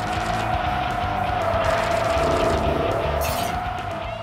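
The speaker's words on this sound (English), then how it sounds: "You slide around corners out of control and try not to run into anything" A drifting car in the PS2 racing game Tokyo Xtreme Racer Drift holds a loud, steady engine drone while its tires squeal through a long slide, the squeal bending in pitch midway and continuing without a break.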